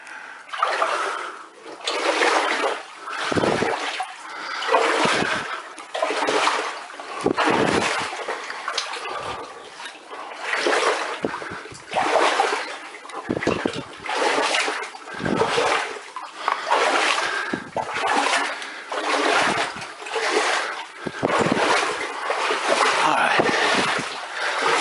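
Water splashing underfoot in a flooded early-1900s coal drift mine, repeated sloshing steps and splatters through shallow water mixed with coal, close and fairly steady in rhythm, with occasional voices.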